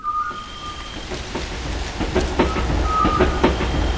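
A passenger train runs steadily on its rails, a continuous low rumble with rhythmic clickety-clack knocks and brief high metallic squeals, close and fairly loud with no voices.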